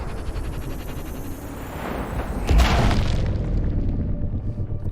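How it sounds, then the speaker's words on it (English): A deep video-game explosion booms out partway through, a broad loud blast that swells and then rumbles away over a steady background of game noise, with no talking. "Explosion heard, location unclear, awaiting orders."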